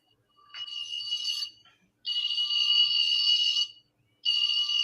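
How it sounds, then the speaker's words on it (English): Phone alarm going off indoors in repeated bursts of high, steady electronic beeping, about three loud pulses separated by short gaps, fairly close with no talk over it. "It's an alarm."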